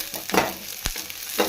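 Spices sizzle in a pan with garlic and ginger for Bangalore-style mutton biryani, a soft hiss broken by a couple of stirring scrapes and one sharp clack from the utensil.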